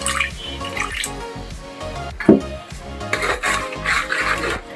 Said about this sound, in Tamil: கொஞ்சமாக தண்ணி ஆட் பண்ணிக்க போகிறேன்.